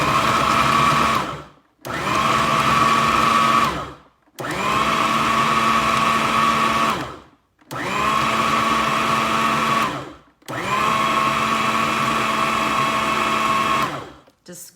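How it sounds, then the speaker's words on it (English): A food processor grinds meat for Brunswick stew in five loud, even pulses of whirring motor, each lasting about two seconds with short silent gaps in between. "Just grinding the meat,"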